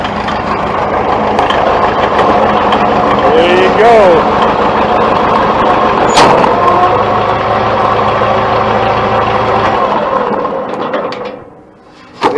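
A steady, close diesel rumble from an International 450 tractor at an auction runs throughout with a low, chugging idle, while someone talks over it briefly; the engine note drops away near the end.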